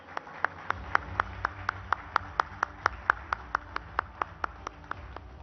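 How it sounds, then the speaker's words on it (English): Rhythmic clapping at a national news conclave forum, steady and evenly spaced at about five claps per second, moderately loud and continuing for several seconds with no talk. "Can we give him a big round of applause, please?"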